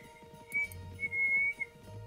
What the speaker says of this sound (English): I just can't help whistling.